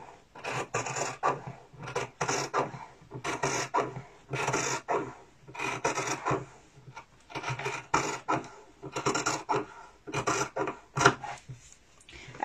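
Fabric pieces being cut out for a sewing project: rhythmic rasping, scraping strokes in regular bursts, close up and moderately loud, with no voices.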